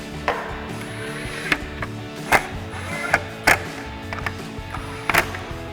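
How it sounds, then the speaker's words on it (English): Screws are driven into a plastic bracket while a Bronco LED tail light is fitted, giving scattered close clicks and sharp ratcheting snaps over a low, steady background hum with no talk. "when tightening these down, you are tightening into a plastic bracket and a plastic light"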